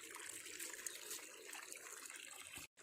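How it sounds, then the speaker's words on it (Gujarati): Water runs steadily from a tap for a Sunday day of filling water at home, a continuous close hiss that cuts out briefly near the end. "તો ગાઈસ, પાણી તો ચાલુ છે"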